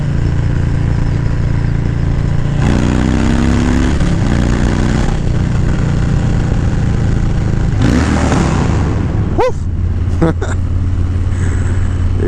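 Harley-Davidson motorcycle engine rumbling and revving while riding at low speed, a steady low drone with rising harmonic sweeps, heard under continuous talk and wind noise.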